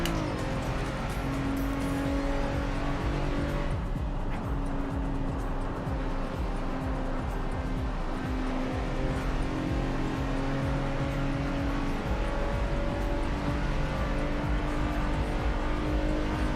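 A Ferrari 488 GTE race car in iRacing at Sebring, its engine roaring loud and continuous with shifting pitch as it accelerates and changes gear, steady throughout with tire noise.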